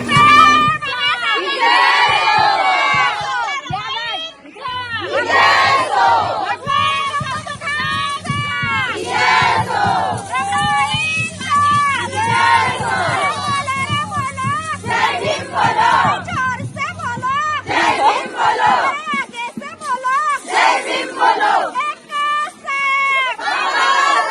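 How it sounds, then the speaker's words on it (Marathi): A dense crowd at an outdoor joint Jayanti festival at a Buddha Vihara cheers and chants slogans in loud, continuous waves of massed voices, with a steady low hum underneath throughout. "त्यानंतर इथे होत आहे जल्लोष घोषणांचा"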